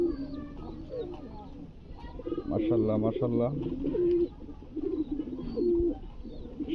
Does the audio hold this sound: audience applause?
no